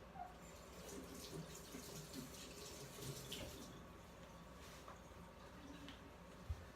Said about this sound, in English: one sec while I wash my hands